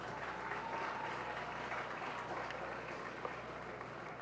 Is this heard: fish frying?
no